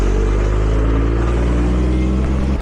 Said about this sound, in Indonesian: ada truk